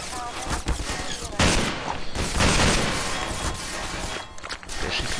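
Enemy machine gun fire in Half-Life 2 with a cinematic mod, dense rattling bursts from a distance filling the scene continuously alongside other loud gunfire and crashes.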